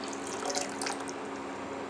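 Water poured into sago in a wide vessel and mixed, a steady close splashing and running-water wash that holds at an even level with brief louder surges, and no voices.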